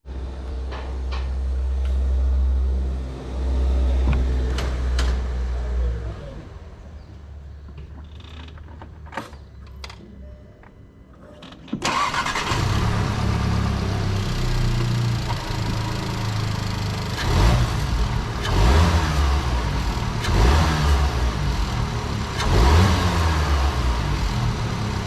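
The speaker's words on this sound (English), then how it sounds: "let's do a sound check real quick, show you guys what the car sounds like with everything still factory" A car engine with its factory stock intake goes through a few mechanical clicks and creaks, then cranks and catches. It settles into a loud, steady run with repeated revs rising and falling.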